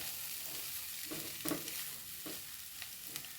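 Coriander leaves are stirred into a frying dish: a faint, steady sizzle runs under soft scraping strokes of a spoon, close by and quiet.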